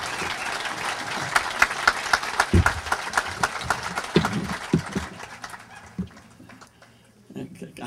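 A large outdoor crowd at the Fighting Bob Fest rally applauds a senator, dense loud clapping that thins out and fades toward the end, with a voice speaking over it.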